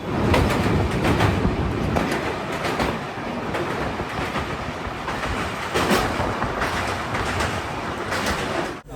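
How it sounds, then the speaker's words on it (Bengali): The 13053 Kulik Express pulls into Barsoi Junction station with a loud, steady rumble and rhythmic wheel clatter close by, and no talking is heard. "আমাদের ট্রেন এসে পৌঁছেছে বারসই জংশন স্টেশনে"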